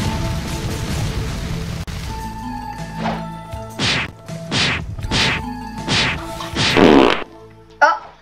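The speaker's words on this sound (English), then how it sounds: "This guy's fart is really strong." A video game character lets out a series of loud, blasting farts, about five bursts in quick succession with thuds and crashes mixed in, over game sounds.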